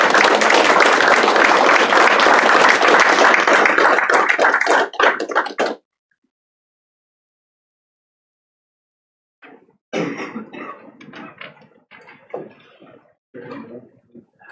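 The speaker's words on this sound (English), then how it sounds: "And let's give them a big round of applause." A crowd at a career and technical education signing day gives welding students a round of applause: loud, dense clapping that fades out and stops, then silence, then scattered handling noises and murmurs.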